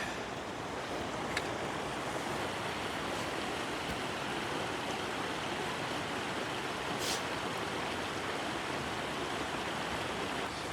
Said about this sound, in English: We stopped at this location as the waterfall just looked too perfect.